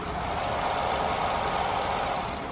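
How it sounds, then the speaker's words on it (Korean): An imported sedan's engine idling up close under an open hood, a steady, even rumble with a continuous hiss that holds unchanged throughout, no voices. "영상에서 들리시는 것 같이 굉장히 정숙하고 규칙적인 엔진 사운드 들려주고 있고요"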